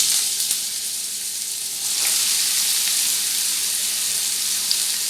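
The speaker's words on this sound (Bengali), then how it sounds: "আমি পটলগুলো ছেড়ে দিচ্ছি।" Pointed gourd pieces dropped into hot mustard oil, giving a loud, steady hiss of frying that swells slightly after a couple of seconds and carries on evenly throughout.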